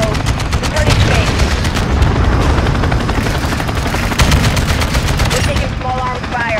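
Dense bursts of small arms gunfire in Modern Warfare 2, rapid automatic fire and booms layered with a helicopter-like roar, loud and continuous, with voices mixed in.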